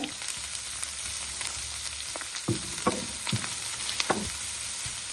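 Sliced onions frying in a pan while bread is being prepared: a steady close sizzle with occasional louder crackling bursts and stirring scrapes, no voices.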